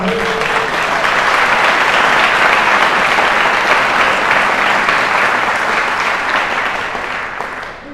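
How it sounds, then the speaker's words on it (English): An audience at a Kean University gala gives Joe another round of applause, a loud, dense, sustained wash of clapping that holds steady for several seconds and eases slightly at the end. "Joe another round of applause."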